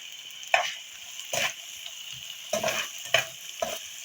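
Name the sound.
chopped onion frying in a pan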